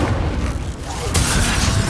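A fiery Incendio spell bursts in Hogwarts Legacy, a loud, dense boom that fills the clip, swelling again near the end amid ongoing game noise.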